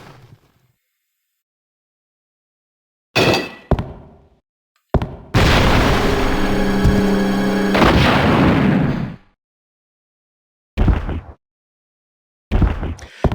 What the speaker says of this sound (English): So the rocket launcher works pretty well against Mr. X. It does stop him in one hit.